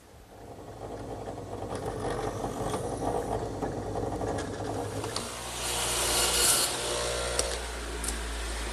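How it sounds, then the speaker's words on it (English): A drill bores a pilot hole in wood for a screw on a pencil post bed build, a short whirring and grinding burst that rises in effort midway, close and fairly quiet. "Now I'll change to a smaller bit to make a pilot hole for the screw."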